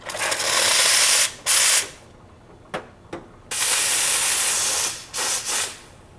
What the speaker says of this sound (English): check out how powerful this steam is real quick